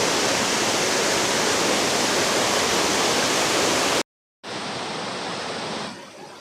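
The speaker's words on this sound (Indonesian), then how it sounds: "Nah, di situ air terjun." Dense, steady roar of a mountain waterfall on Puncak Ciguntur near Sukamakmur, Jonggol, loud and close, cutting off briefly before resuming slightly softer.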